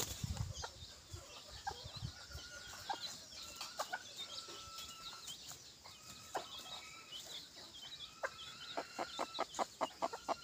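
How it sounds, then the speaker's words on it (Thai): An 11-month-old rooster calls repeatedly at moderate distance, strained crowing phrases mixed with clucks and bursts of scratching or wing movement, with no speech. "ชมเสียงสวยๆครับผมสำหรับคนรักไก่"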